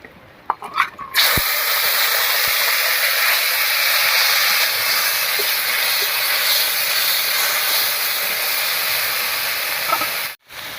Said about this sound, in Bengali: এবারে বেটে রাখা আদা রসুন আর পেঁয়াজটা দেবো